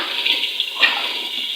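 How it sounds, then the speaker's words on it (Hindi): Ginger-garlic water pours in a steady, close stream into biryani masala of red chilli, turmeric and dried coriander powder, with a brief louder splash partway through and no talking. "थोड़ा सा मैं इसके अंदर पानी ऐड करूँगी, जो कि अदरक लहसुन वाला पानी है।"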